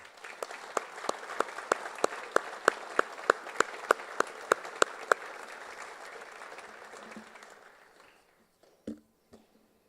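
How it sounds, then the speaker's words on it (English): A crowd applauds at a Hall of Honor induction ceremony, steady clapping with a few sharp, loud individual claps standing out. The applause fades out around eight seconds, leaving a couple of faint knocks. "Please join me in thanking these individuals with a round of applause."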